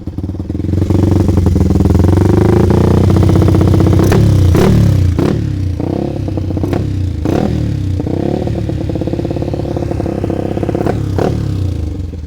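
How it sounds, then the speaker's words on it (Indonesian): A Yamaha Jupiter MX King 200cc motorcycle engine runs close by, idling with a steady rattling pulse and blipped several times in sharp revs, sometimes with metallic clatter. "Mari kita dengar dari motor ini ya."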